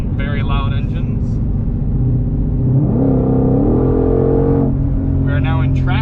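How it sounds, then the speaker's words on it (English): A 2021 Ford Mustang Shelby GT500 supercharged V8 revs while driving, the engine note climbing and holding loud inside the cabin as a person talks over it. "we are running around in the GT500, having a good old time listening to rattles and very loud engines"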